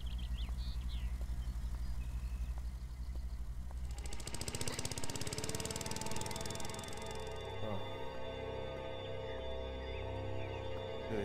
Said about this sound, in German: wenn hier jemand Rasen mäht.